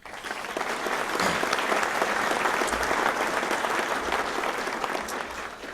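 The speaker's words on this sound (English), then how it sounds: "So if we could give them a round of applause, please." An audience at the 2016 AHCA Celebration of Men's Hockey breaks into steady, dense applause that holds evenly for several seconds and then eases off slightly near the end.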